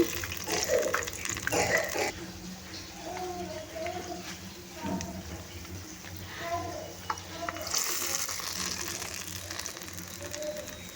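Urad dal vadas fry in oil over a medium gas flame, giving a steady broadband sizzle that runs throughout, with a voice talking over it.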